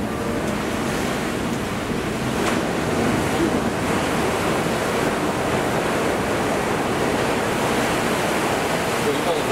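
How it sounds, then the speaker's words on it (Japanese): Waves in an artificial surf pool at Shizunami Surf Stadium roar and wash continuously, loud and close, with a broad steady surf noise and some wind. "今の波の音ですね。"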